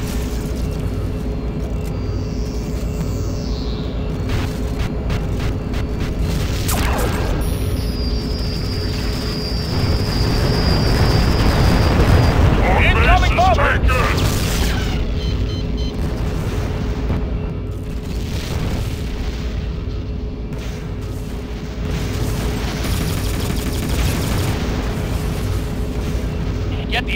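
Bomber explosions in the Tribes 2 online shooter: heavy booming blasts swelling into a loud rumbling peak midway, with scattered pops, engine drone and other battle noise around, and voices talking at times.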